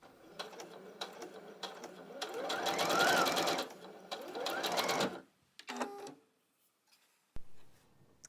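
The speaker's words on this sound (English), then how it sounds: "I do recommend using a pretty short stitch on your sewing machine" A domestic sewing machine set to a short 1.5 stitch length, paper piecing a quilt block: a steady rapid mechanical whirring run of a few seconds, followed by a shorter burst and a few clicks, fairly quiet.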